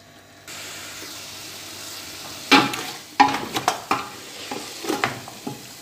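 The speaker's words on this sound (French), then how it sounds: "nos condiments viande ont bien pris le temps de frire" Meat and seasonings frying in a pot for Cameroonian peanut-and-okra sauce: a steady sizzle broken by loud, sharp scrapes and clatters of stirring in an irregular run, close up, with no voices.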